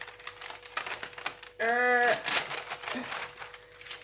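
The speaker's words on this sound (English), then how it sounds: "what I do is I peel it off while it's hot, because it's easy to peel off" Hot wax-coated fabric wrap is peeled off a surface, giving a brief crackling, tearing rip in the middle of soft handling noises and faint background talk.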